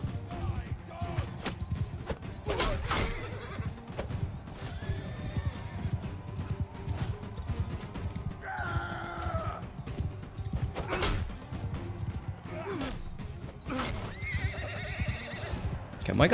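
Rhythmic clip-clop of hooves with a couple of loud neighs, set against busy game sounds and clatter in Mount and Blade 2: Bannerlord with the Realm of Thrones mod.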